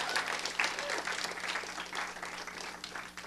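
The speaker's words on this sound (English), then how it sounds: "give you guys a round of applause" An audience at a talk show breaks into applause, a steady wash of clapping from many hands that holds for several seconds with a voice faintly mixed in.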